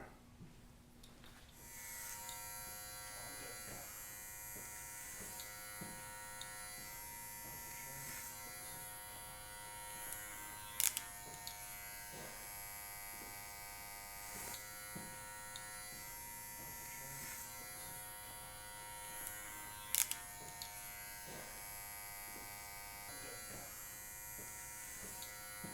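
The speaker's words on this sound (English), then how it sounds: "I'm going to do a little bit of clipper over comb, just clean up the sides here." Electric hair clippers buzz steadily as they work clipper over comb along the sides of a fade haircut, a close, continuous hum broken by a couple of sharp clicks, with no talk.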